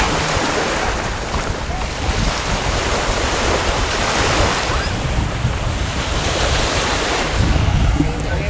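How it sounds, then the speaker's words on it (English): Surf washes steadily onto a black and gold sand beach on St. Kitts or St. Thomas, a loud, continuous roar of breaking waves mixed with wind buffeting the microphone. "we're at a black and gold sand beach"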